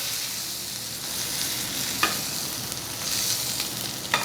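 Sirloin steak sizzling with butter in a hot pan, a steady crackling fry throughout with a couple of sharper spits and pops near the middle and end, close and fairly loud with no talking.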